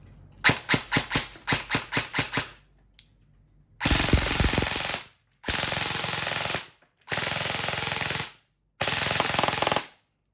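An E&C 640 Gen3 toy gun test-fires close up, first as a rapid string of sharp individual shots, then in four sustained full-auto bursts of about a second each, with short pauses between them.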